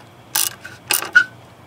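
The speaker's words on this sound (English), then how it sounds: "it's gonna raise the alternator up and tighten up the belt." A ratchet wrench cranking to raise a car's alternator and tighten its belt, giving a few short, close metallic clicks in two quick bursts, ending with a brief ringing tick.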